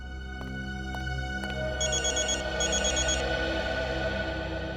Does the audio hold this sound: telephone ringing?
yes